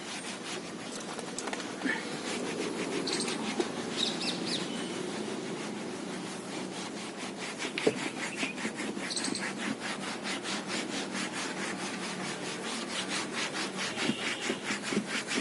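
A cloth rubs polish in circles over a car's plastic dashboard, a steady rapid scrubbing swish that repeats evenly and close for the whole stretch, fairly quiet with occasional small knocks.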